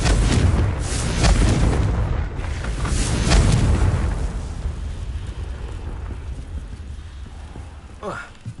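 In a Harry Potter game, a Confringo blasting spell erupts in a deep, loud explosion whose rumble swells over the first few seconds, then trails off into a fading roar, with a voice speaking over it.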